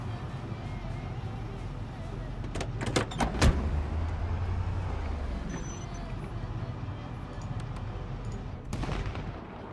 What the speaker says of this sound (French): un coup de feu qui semblait tout proche